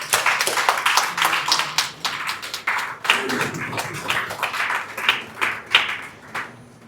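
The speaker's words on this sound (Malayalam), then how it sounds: "ഒന്ന് ഏറ്റു നിന്ന് എല്ലാവരുടെയും കയ്യടി ഒന്ന് സ്വീകരിച്ചാൽ" Audience applause at a book release event for Nasranis, a crowd clapping steadily for about seven seconds with uneven bursts, loud and fairly close, fading slightly at the end.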